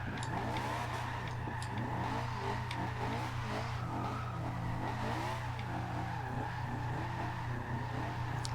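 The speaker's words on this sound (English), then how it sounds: "Look how responsive the engine is." A Honda S2000 drift build in Forza Horizon 2 revs steadily in second gear, its engine note rising and falling in quick throttle blips over a constant droning hum, with occasional faint tire chirps.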